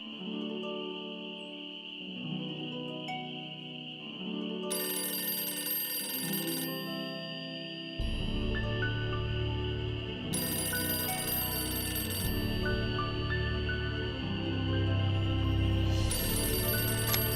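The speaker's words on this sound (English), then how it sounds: "I wait for the phone to ring" A telephone rings repeatedly in Nancy Drew: Ghost Dogs of Moon Lake, the bursts of ringing sitting over a steady tonal game background and low ambient hum, with no talking.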